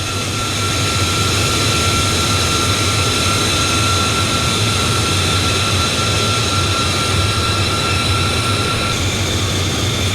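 Simulated jet engines of a huge B-2 Spirit stealth bomber in Microsoft Flight Simulator 2020 give a loud, constant roar with a steady high whine, unbroken and without talk.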